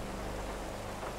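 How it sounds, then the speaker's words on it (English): Steady rainfall in the Sandy Shores area of a GTA roleplay game, a continuous even hiss of rain with a low rumble beneath, with no talk over it. "It's raining too."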